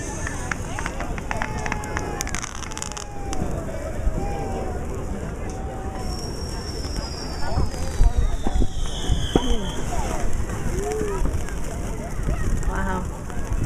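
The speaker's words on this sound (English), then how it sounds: "Just a few more before the actual fireworks start." Fireworks pop and crackle at a Fourth of July show on Foster Beach in Chicago, scattered bangs and whistles over a chattering crowd, with people talking nearby.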